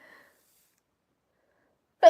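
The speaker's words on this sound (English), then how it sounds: "I feel like I'm gonna sneeze." A single sharp sneeze bursts out near the end after a brief faint murmur and near silence.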